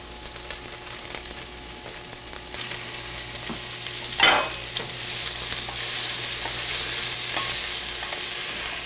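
Onions fry in a pan with a continuous sizzle, and a wooden utensil stirs and separates them, one sharp scrape standing out midway. Close and steady, with no talking.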